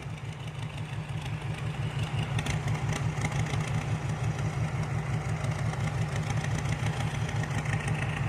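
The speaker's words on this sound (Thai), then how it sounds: "หาชมเจ้ารถไถฟอร์ดดันท้ายนะฮะ" A Ford tractor engine chugs loudly and steadily up close while being pushed from behind by an excavator, a throbbing low rumble that holds constant with no voices.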